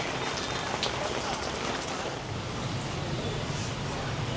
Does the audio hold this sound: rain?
yes